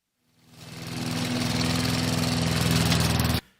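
A lawn mower engine starts up, builds to a steady droning roar for about three seconds, then cuts off abruptly, heard alone at moderate distance.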